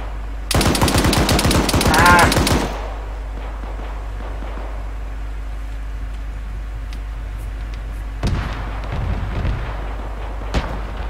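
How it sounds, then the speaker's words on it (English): A tank's guns fire a fast, loud burst of automatic rounds, followed by a quieter stretch and a few more scattered shots further off. "our tank's engaging something"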